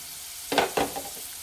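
Onions frying in a pan for bottle gourd curry, with two short bursts of sizzling and stirring close by, then quieter crackle fading out.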